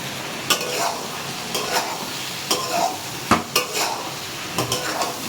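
Vegetables with turmeric are stirred and fried in a pan, with repeated scraping strokes of a utensil against the metal over a soft, steady sizzle, close and fairly quiet.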